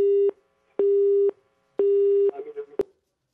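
A Japanese landline plays a busy tone after a scam caller hangs up: three evenly spaced, clear beeps of the same pitch, then a faint rustle and a sharp click.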